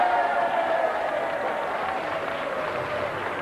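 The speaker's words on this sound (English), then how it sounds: "So applause there" Crowd applause at a 2005 general election count in the Sedgefield constituency after Tony Blair is re-elected as MP, a steady distant wash of clapping that fades slightly over time.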